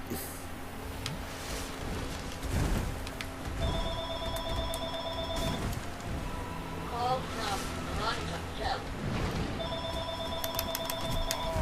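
A telephone bell rings in repeated bursts during play of Dark Souls, electronic ringing tones that recur several times over a busy game soundscape with thuds and effects, while a person talks over it.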